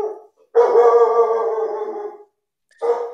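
A dog lets out one long, drawn-out bark close by, followed after a brief pause by the start of another, with no talk.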